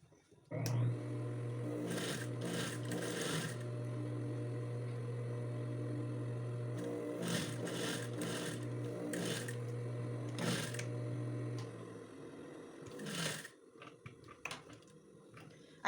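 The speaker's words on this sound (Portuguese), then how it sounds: "E aí, você costura novamente." Sewing machine stitching bias binding around a curve of a built-in blazer pocket, running steadily and close for about eleven seconds with quiet handling sounds before and after, and a voice speaking over it.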